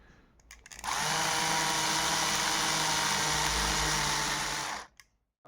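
An electric drill fitted with a worn, resharpened bit whirs steadily for about four seconds at close range, starting and stopping abruptly.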